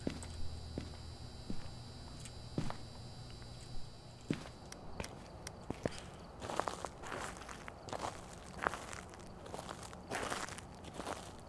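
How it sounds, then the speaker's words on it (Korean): Footsteps in Phasmophobia in the Willow Street house, a steady run of soft thuds and crunchy steps, faint at first and growing louder and denser toward the end, with no talk. "발소리도 크게 들리네"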